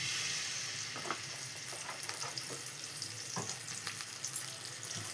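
Spices sizzle and crackle steadily in hot sesame oil in a pan, with soft scattered pops and no voices.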